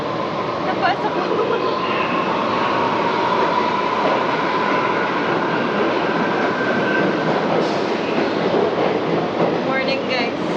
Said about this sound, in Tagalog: Napaparating na tren.